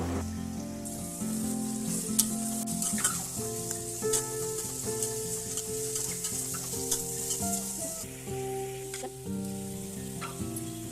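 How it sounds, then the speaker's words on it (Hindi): Eight or nine onions frying in a pot for yakhni pulao are gently stirred, making a continuous sizzle with soft scraping under steady background music. "देखिए अब इसे हम हल्के हाथों से चला लेते हैं"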